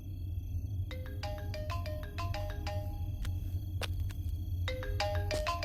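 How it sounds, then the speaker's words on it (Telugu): A phone ringtone plays a bright, repeating electronic melody over a low, steady background hum. "మీ ఫోన్ మోగుతోంది"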